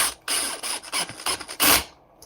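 A screw is tightened into a nut by hand on a full carbon frame build, heard as a few close, loud bursts of ratcheting, grinding turns separated by short pauses, with no talking.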